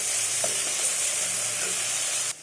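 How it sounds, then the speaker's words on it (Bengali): Spices for a vegetarian okra-and-potato curry, with a little water added, are sautéed and stirred in a pan. A steady close sizzle runs with light stirring scrapes until it cuts off abruptly at the end. "তারপরে কষিয়ে নেব।"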